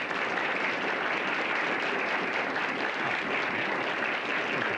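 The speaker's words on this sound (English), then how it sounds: "give them a round of applause for their volunteer" An audience at a magic show at The Magic Palace gives sustained, even applause for two volunteers, a dense continuous roar of clapping without pause.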